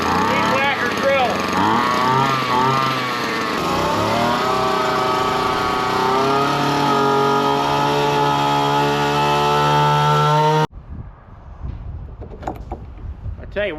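A small two-stroke weed whacker engine runs loud and steady near the mic for about ten seconds, its pitch wavering as the throttle shifts, then cuts off abruptly, leaving faint background noise and light knocks.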